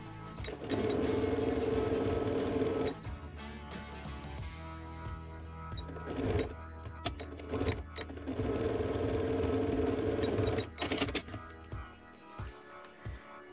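A sewing machine stitches along the bottom seam of a small fabric toiletry bag in two quick, steady bursts, each running a couple of seconds, with short pauses, handling clicks and fabric rustle between them.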